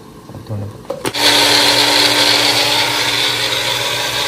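A blender whirs up to full speed after a few brief knocks, grinding coriander leaves and green chilies into paste with a loud, steady, high-pitched drone that holds to the end.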